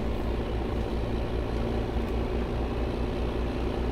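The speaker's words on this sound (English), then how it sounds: "This tractor is much quieter" A steady low engine drone runs continuously, a tractor idling evenly in the video game Farming Simulator 2015, with no other sounds.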